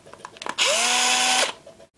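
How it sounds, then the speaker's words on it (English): A power drill whirs steadily for under a second, a loud sustained motor whine that starts abruptly and cuts off, with faint clicks before it. "A drill."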